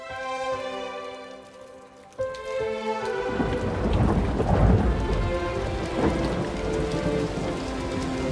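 Steady heavy rain with rumbling thunder building after a soft opening, a dense close downpour with low rolls swelling midway, set indoors-out during a Turkish drama scene, over faint background music at the start.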